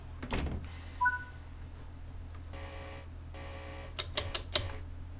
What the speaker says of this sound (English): let's get the doors shut